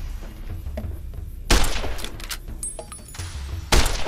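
Gunfire in Fallout New Vegas, two sharp, loud shots about two seconds apart, each with a crashing, shattering tail over a low background hum.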